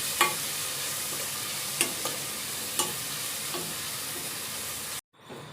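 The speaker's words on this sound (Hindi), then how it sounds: "अब इन सारे मसालों को एक बार भून लेंगे" Spices, green chili and curry leaves frying in a tempering for Rajasthani kadhi, a steady hiss of hot oil with a few sharp spoon taps on the pan, cut off abruptly at the end.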